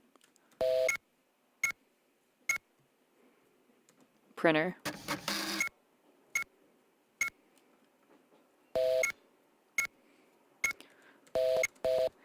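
Short bursts of telephone keypad dial tones used in a music track repeat in a loose rhythm, with a brief stretch of talking in the middle.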